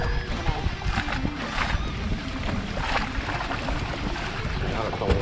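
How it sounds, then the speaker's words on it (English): Steady gusting wind roars across open water, constant and loud, with faint splashing and a voice briefly in the mix. "How did it get windy so fast?"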